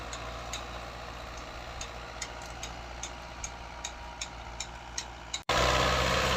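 A New Holland 640 tractor pulling a seven-tine chisel plough gives a steady low engine drone with faint regular ticking, then breaks into a sudden, much louder roar near the end.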